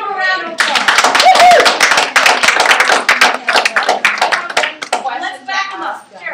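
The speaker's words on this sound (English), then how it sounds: "Let's give him a round of applause." Attendees at a homeowners association meeting clap for a volunteer, a close, uneven burst of individual hand claps lasting several seconds, with voices heard just before and as it fades.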